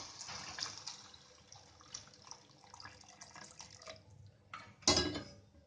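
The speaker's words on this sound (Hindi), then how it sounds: "जिस पानी में हमने गट्टे बॉयल किए थे वही पानी इसमें हम डाल देंगे" Hot water from boiling gram-flour gatte is poured into a masala gravy, giving a steady soft splashing and trickling pour with a louder splash near the end, no talking.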